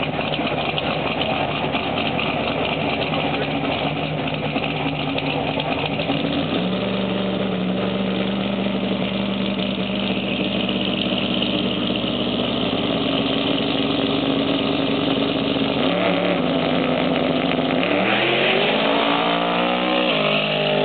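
A Pro Stock drag race car engine runs at a stadium, steady and loud with a dense mechanical roar that holds, then shifts pitch sharply near the end as it revs.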